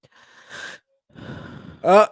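A few breathy bursts with a sharp, loud inhale or gasp at the end, close and unaccompanied by talk.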